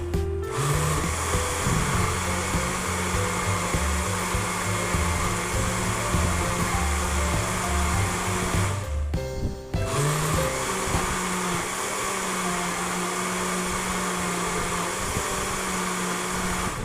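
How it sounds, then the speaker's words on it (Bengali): Blender whirring steadily as it mixes a mango and banana smoothie with milk, a loud continuous motor drone that briefly dips around the middle, then resumes at full strength with no talking. "দুধ দিয়ে আবার ভালো করে ব্লেন্ড করে নেব।"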